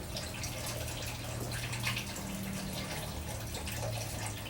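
Conditioned water runs from a tap while soap is rinsed off, a steady splashing rush with a faint low hum underneath, continuous and fairly close.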